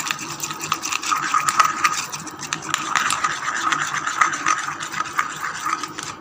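Egg face-mask mixture with semolina being whisked briskly in a bowl, a steady rapid scraping and rubbing rhythm that continues throughout at close range.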